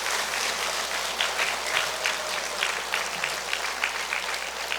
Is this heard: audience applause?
yes